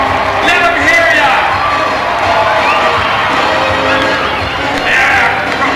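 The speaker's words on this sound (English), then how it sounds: "Let's cheer on those heroic warriors." A live crowd at a Power-Con convention panel cheers and whoops, with children shouting, in a steady, dense roar of voices that runs loud throughout and swells again near the end.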